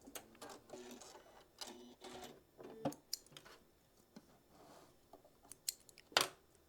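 A sewing machine stitches a quarter-inch seam on a quilting project, with short close bursts of mechanical whirring and clicks separated by pauses, fairly quiet and without talk.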